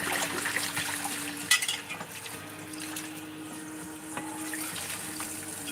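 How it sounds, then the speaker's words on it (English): Tap water runs steadily into a pot in a home kitchen while preparing lemon cupcakes, a continuous hissing splash with a few light clinks. "Okay, so we're going to put some water up in here."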